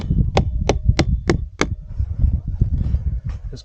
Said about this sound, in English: we're going to need to take the hammer and tap them into place